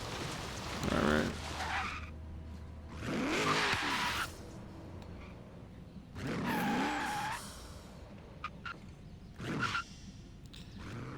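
A 1967 Chevrolet Corvette Stingray 427 in Forza Horizon 3 screeching its tires in several separate bursts of skidding and revving engine, loud and close, with quieter gaps between.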